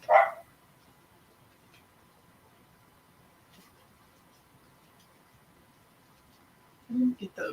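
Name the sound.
dogs barking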